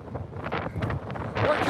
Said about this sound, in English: Look at the wind. Massive tornado now.